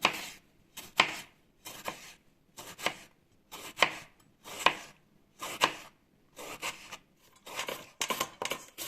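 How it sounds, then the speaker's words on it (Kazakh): A knife slices tomatoes thinly on a board for a Korean-style carrot salad, about a dozen crisp cutting strokes in a loose steady rhythm, close and quiet, with no talk. "Қызанақты да ортасынан екіге бөліп, бірнеше бөлікке ұсақтап, жіңішке етіп турап шығамыз."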